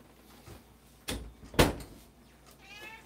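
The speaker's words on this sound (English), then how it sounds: "I just heard the cat howl." Two sharp thumps are followed by a short, faint cat meow close by in a quiet room.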